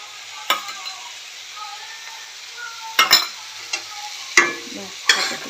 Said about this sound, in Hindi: बस आउ गोटे परटा पड़ती तेल देवा